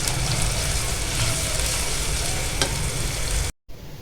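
Sliced onions frying in hot oil, softening until golden, give a steady, loud, close sizzle that continues without a break before cutting out abruptly near the end.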